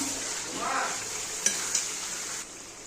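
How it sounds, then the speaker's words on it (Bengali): Chicken goes into a pan of sizzling fried masala, a steady frying hiss with a stirring scrape and two sharp metallic clinks of a utensil against the pan, the sizzle easing slightly near the end. "আমি এবার চিকেনটা দিয়ে দেব।"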